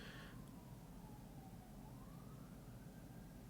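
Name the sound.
fire truck sirens passing outside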